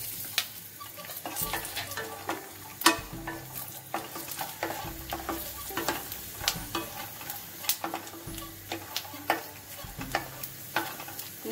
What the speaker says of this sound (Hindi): देखिए हमारी मूंगफली जो है हल्का सा आवाज करने लगी है ना, तो अब इसी में क्या करेंगे, थोड़े से मैं काजू डाल दूंगी।